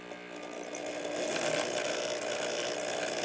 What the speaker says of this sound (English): And then it has an electric drill connected to a little foot pedal so that I can make it go real slow.